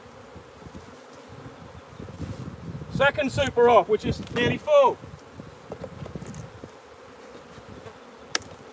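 Honeybees hum in an open hive during a big nectar flow, a soft steady buzz close by, while someone talks over it in the middle.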